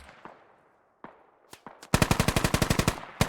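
AK rifle fire in a competitive video game match: a few isolated distant shots, then a rapid, loud automatic burst of about fifteen evenly spaced rounds close by, with no talk over it.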